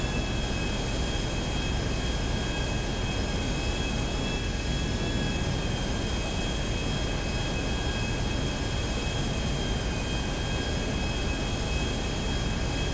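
An airplane engine roars in GTA 5, a constant loud jet-like drone with a steady high whine on top, sustained without pause and with no talk.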